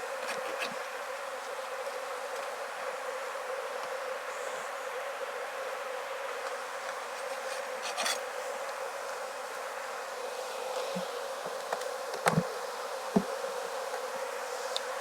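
A dense swarm of honeybees hums continuously around an opened hive during fall hive reductions, a steady close buzz with occasional faint clicks and knocks of handled equipment, no speech.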